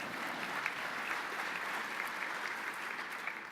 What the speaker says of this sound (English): I'll take some applause for that.